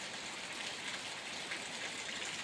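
Heavy rain pouring steadily over farm fields, a dense, even hiss of falling water that stays constant and fairly faint throughout, with no voices.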